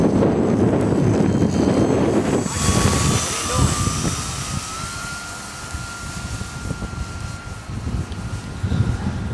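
An RC Cessna 182 model airplane hangs nearly in place in heavy wind, its steady buzzing propeller whine carried over loud, constant wind rumble outdoors.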